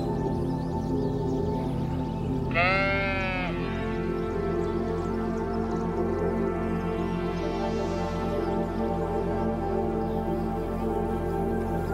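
A bighorn sheep, a mountain-dwelling wild sheep, gives a single short wavering bleat over a steady outdoor hum, fairly clear and mid-distance, with no voices.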